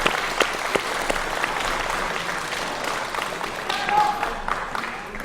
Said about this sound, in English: Oh no, there's the clapping. There's the clapping.